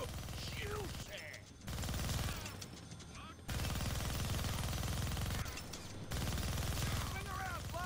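A minigun in the Deadpool video game roars in long dense sustained bursts with short gaps between them, loud and close, while a voice talks over the firing.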